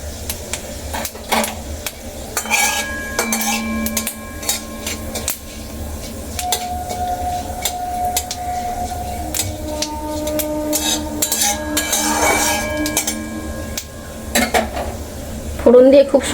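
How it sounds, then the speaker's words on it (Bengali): Dry red chili and five-spice seeds tempering in a little hot oil in a wok, a steady soft sizzle with clinks and scrapes of a spatula stirring throughout, close and continuous. "ফোড়নটা একটু ভালো করে ভেজে নেব।"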